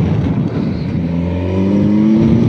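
A 2019 Kawasaki Versys 1000 SE motorcycle pulling hard in third gear, engine note rising steadily in pitch as it accelerates, loud and close with wind rush and no talk.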